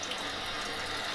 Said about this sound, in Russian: Я включаю воду.